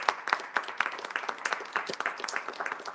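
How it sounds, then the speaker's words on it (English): A conference audience applauds the robot Nylo at a GLOTECH keynote session, with dense, continuous hand clapping from many people that stays fairly close and even for the whole stretch. "So let's do a round of applause for Nylo."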